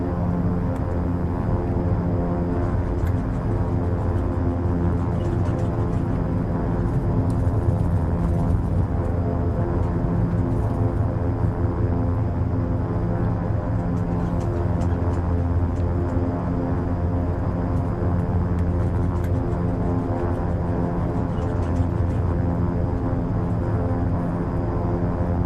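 Beechcraft King Air 350 turboprop taxiing in the X-Plane 12 flight simulator, a steady, loud engine drone and whine that stays constant throughout, with no talk.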